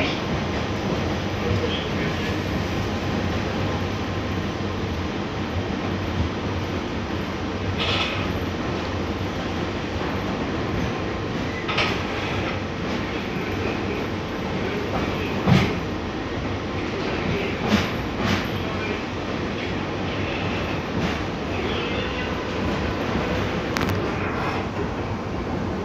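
Inside an Ankaray light metro train running between stations on the AŞTİ–Maltepe line in Ankara, a constant loud rolling rumble carries on with scattered clanks and thumps from the track.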